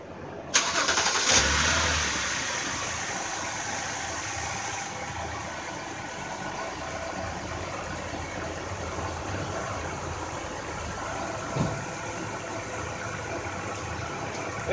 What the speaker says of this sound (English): let's do a first startup compressor